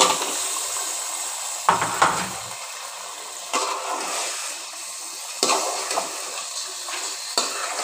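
Meat stirred in a pan with cooked-down spices: a soft sizzle broken by several scraping, clattering strokes of a utensil against the pan, spaced a second or two apart.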